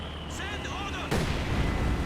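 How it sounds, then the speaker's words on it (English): A 120mm mortar fires in the real-time strategy game Company of Heroes 2, a sudden heavy boom cutting in midway over a busy battlefield, with a voice commentating just before it. "The 120mm mortars now trying to retaliate against those legs."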